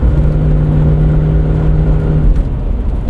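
Straight-piped exhaust of a 2000 Lexus LX 470 with its muffler deleted, at 300,000 miles, rumbling loud and close in a steady deep drone with slight induction noise, no voices.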